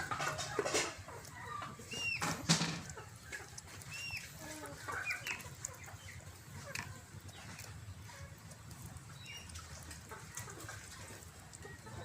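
Chickens cluck intermittently against a noisy farmyard background, with a few louder calls early on and softer clucks continuing throughout.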